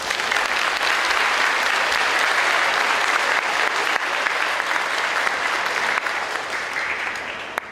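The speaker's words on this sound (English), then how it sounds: "please join me in giving them a round of applause" A banquet audience applauds county commissioners and town aldermen in a sustained, dense, loud round of clapping that holds steady for several seconds before beginning to taper.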